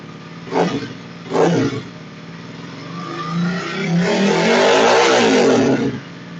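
Kawasaki KLX250R dirt bike engine with newly jetted carburetor, two quick sharp throttle blips followed by a longer rising rev that swells loud and holds before dropping off, no talking.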